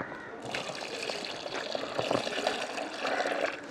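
Water poured into a container while mixing a bio-enhancer solution, a continuous splashing pour that starts after a brief moment and runs steadily, close and moderately loud, with no talking over it.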